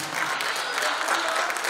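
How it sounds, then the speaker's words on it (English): A church congregation claps hands in praise during a service, a dense burst of applause filling the room at close range with voices mixed beneath. "Can we clap our hands and give God a praise?"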